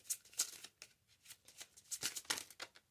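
Tarot cards are shuffled by hand at close range, a soft quiet run of irregular riffling and slapping bursts.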